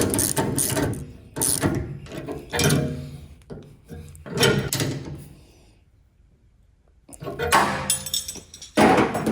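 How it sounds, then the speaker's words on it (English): A 3/4 inch socket and wrench tighten mounting hardware on a truck bed antenna and light mount for a Jeep Gladiator, giving repeated bursts of close metallic ratcheting clicks with a brief quiet pause midway. "a 3/4 inch socket and wrench will be needed to tighten them in place"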